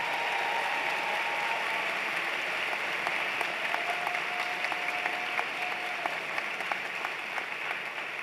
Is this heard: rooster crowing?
no